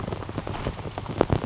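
Steady rain patters down outside a marina unit, a soft, continuous hiss of drops with occasional slightly louder splashes close by, no voices.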